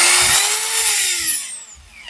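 A secondhand 10 mm keyless-chuck electric drill without hammer function is plugged in and test-run, its motor whining up to a high pitch, then spinning down and fading to near silence.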